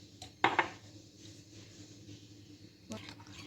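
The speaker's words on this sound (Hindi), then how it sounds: "स्पून की मदद से आपने इसको मिक्स कर लेना है" A metal spoon clinks against a bowl while mixing creamy macaroni salad, a sharp pair of clatters near the start and another light knock toward the end, close and fairly quiet over a low room hum.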